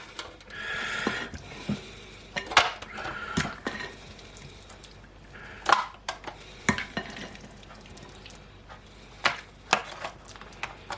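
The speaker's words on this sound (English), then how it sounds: "spoon everything into the dish" Bread pudding mixture is spooned into a foil dish in a kitchen: scattered spoon clinks and soft scrapes against the foil, quiet and irregular, with no talking.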